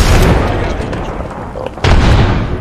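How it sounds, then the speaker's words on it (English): Grenade blasts in the video game Apex Legends, heavy booming explosions that fill the whole stretch, with a fresh loud burst near the end of the sequence. "He's throwing grenades."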